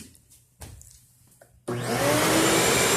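A shop vac connected to the dust collection port of a Ridgid table saw switches on after a few soft clunks, jumping to a loud, steady roaring whine of suction that holds to the end.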